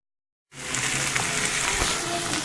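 Steady loud sizzling and frying from a pan with spinach being stirred in, starting abruptly and continuing without pause, with faint scraping of the stirring.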